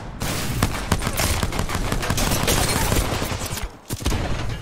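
Rapid video game gunfire cracks almost without pause, a dense fusillade of shots filling the clip before a brief lull near the end, with faint voices under it.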